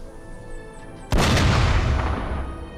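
A single heavy cannon blast in the game Napoleon: Total War booms out suddenly, then rolls on in a long rumbling roar over a quieter, steady game background hum.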